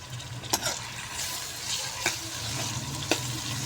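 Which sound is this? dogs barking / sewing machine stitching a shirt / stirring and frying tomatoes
stirring and frying tomatoes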